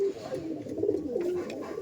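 Madrasi pigeons give low, murmuring coos close by in a continuous soft warble over a muffled background.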